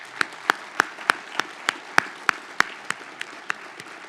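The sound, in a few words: applause at residency graduation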